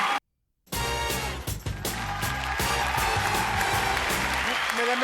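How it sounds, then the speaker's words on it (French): Studio audience applause on a French radio and television show at the Maison de la Radio, breaking in after a moment of silence and continuing as a steady wash of clapping under loud music. "Applaudissements pour elle."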